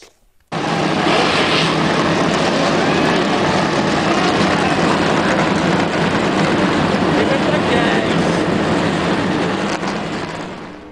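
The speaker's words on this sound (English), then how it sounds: "Command given, engines fired." Several NASCAR race car engines fire up together into a dense, loud, steady roar that swells in abruptly and holds for about ten seconds, filling the air with no clear voices.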